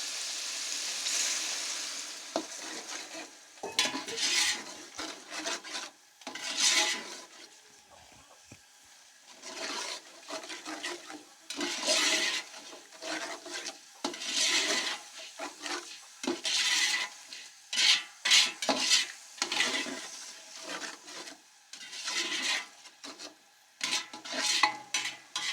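Chicken being stirred with salt, kabuli pulao masala and a little water in a cooking pot, giving repeated scraping and stirring bursts with faint sizzling, fairly close, with no talking.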